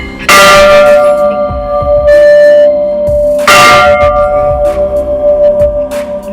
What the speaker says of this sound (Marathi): इथे एक मोठी अशी घंटा सुद्धा आहे.